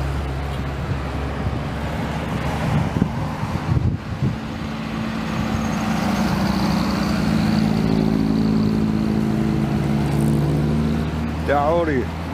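An Audi car passes on a road by the Rhine, its engine rumble and road noise swelling then fading, with people talking nearby.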